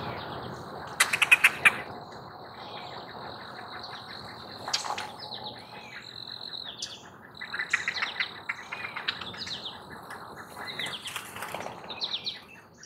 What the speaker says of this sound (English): The green heron's call is loud. Now, let's listen to its call.